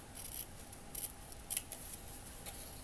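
Scissors snip through material for a bedroom build in a few faint, crisp cuts, quiet and close with short pauses between.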